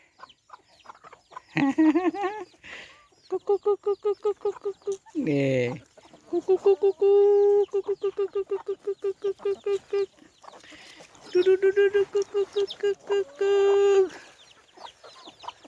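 Small chicken clucking in repeated bursts of rapid, rhythmic clucks close to the microphone, with a few pauses between runs and a brief spoken word from a person nearby.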